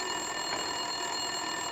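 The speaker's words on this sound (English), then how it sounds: "Winterson's phone was ringing." A telephone in the video game Max Payne 2: The Fall of Max Payne rings continuously with a steady, electronic trill, moderately loud and without any talking.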